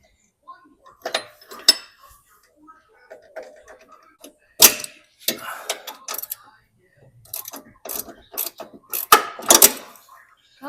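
A ratchet wrench loosens a bolt while working on a lifted truck, giving quiet, irregular clicking and metallic clinks in short clusters, close by and alone.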